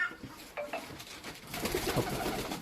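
Racing pigeons coo softly in a loft in Bhanga, Faridpur, with a few low murmuring calls over a quiet background and faint clatter.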